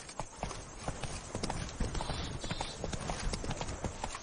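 Hooves of the horse Roach galloping in a video game, a steady rapid clip-clop rhythm that is loud and close and lasts throughout, with a dense wash of ambient game sound beneath.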